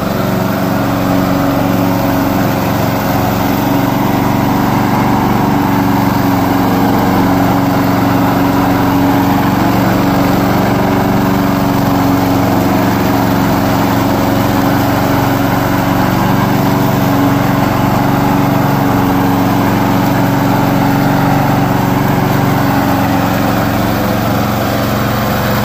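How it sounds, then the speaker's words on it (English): A SUPERSHINE ROBOT remote control lawnmower runs steadily with a constant engine drone throughout, close and loud, with no talking. "Today I'm going to introduce our remote control lawnmower."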